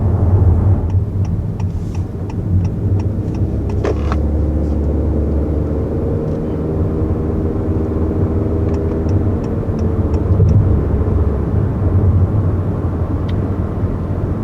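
Inside a 2021 Honda Accord Sport SE with the 1.5-liter turbo and CVT cruising at 55 mph, a steady low road and engine rumble fills the cabin, with faint light ticks over the constant hum.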